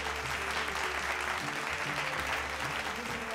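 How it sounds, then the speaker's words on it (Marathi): An audience gives loud, dense applause to the Navrang group from Charkop. The clapping is continuous and close through the whole short stretch, with a faint crowd murmur. "चारकोप इथल्या नवरंग ग्रुपसाठी जोरदार टाळ्या."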